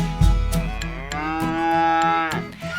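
A cow's long, loud, sustained moo sung within a Catalan farm song for children, with rhythmic music and percussion underneath and no speech.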